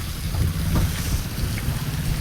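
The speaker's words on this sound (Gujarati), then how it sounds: "વરસાદ ભેગો પવન છે મને લેતો જાય ભાઈ" Wind with rain blowing outdoors near a river, strong enough to turn an umbrella inside out, heard as a steady, loud roaring rush of gusts buffeting the microphone, with no talking.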